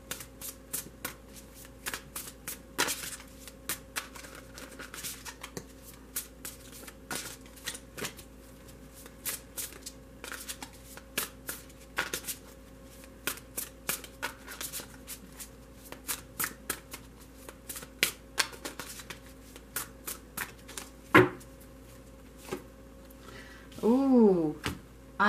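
Tarot cards are shuffled by hand in quick, crisp riffling bursts that go on throughout, close and fairly quiet, over a steady low hum, with a brief rustle of handling near the end.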